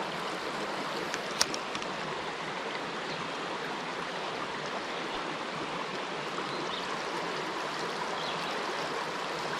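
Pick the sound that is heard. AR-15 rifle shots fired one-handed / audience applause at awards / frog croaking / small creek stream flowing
small creek stream flowing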